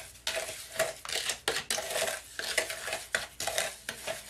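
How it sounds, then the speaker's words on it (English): A sugar scrub mixture is stirred in a bowl with a utensil, making repeated gritty scraping strokes in a quick, uneven rhythm that is close and moderately loud. "Now stir that up."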